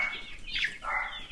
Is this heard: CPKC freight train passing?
no